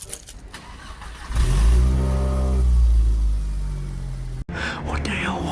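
Close by, a Seat Leon engine with a holed exhaust revs up into a loud, deep, buzzy roar, holds for a few seconds, then abruptly drops away.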